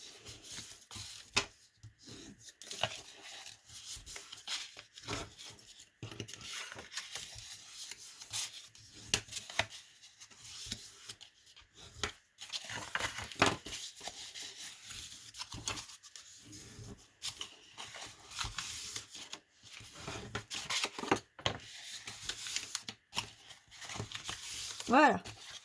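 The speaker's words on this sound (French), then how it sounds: "Vous marquez les plis." Fabric or paper is rubbed and pressed by hand to mark folds on a make-up pouch, giving soft, scratchy, irregular strokes close by under a person talking quietly.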